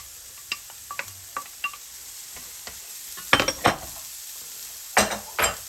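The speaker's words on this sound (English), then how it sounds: "Keep stirring it." Carrots and celery fry in a pan, stirred with a utensil: a soft steady sizzle with scattered light scrapes and a few louder clattering strokes near the end, close and without talk.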